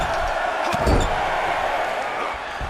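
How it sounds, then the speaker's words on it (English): Arena crowd noise from a WWE 2K22 wrestling match, a dense, steady roar of cheering spectators that swells briefly near the start, with a thud partway through. "Listen to this crowd."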